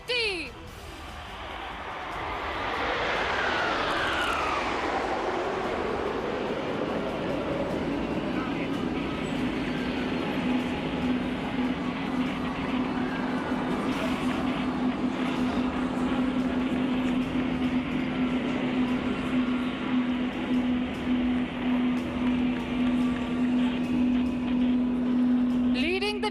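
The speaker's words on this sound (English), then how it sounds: "please welcome the ambassadors of the Indian Air Force, the Suryakiran Aerobatic Team." Suryakiran Aerobatic Team jets of the Indian Air Force fly past at an Air Force Day air show at Marina beach: a roaring sweep that drops in pitch as they pass, then settles into a sustained distant engine drone.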